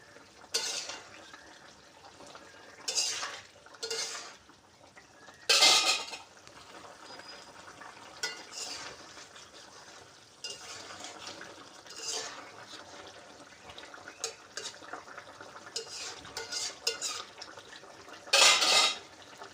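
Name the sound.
stirring cumin paste into fish curry in pan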